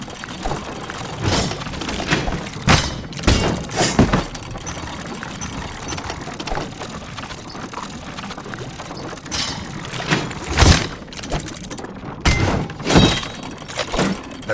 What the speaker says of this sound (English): His only hope was to parry with his trusty shield.